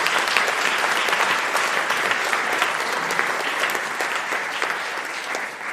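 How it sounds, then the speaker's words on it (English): An audience at the Cornwall Heritage Awards 2024 applauds the judges, dense sustained clapping that stays loud and continuous before easing slightly at the end. "I think you all deserve a round of applause"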